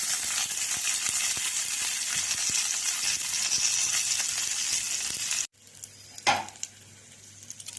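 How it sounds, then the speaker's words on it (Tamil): Chana dal, curry leaves and a pinch of asafoetida sizzle hard in hot oil for a tempering for spicy kara chutney, a loud steady crackle that cuts off abruptly, followed by a brief splash and faint clatter. "அப்படியே இந்த தாளிப்பை சட்னியில் கொட்டிடுவோம்"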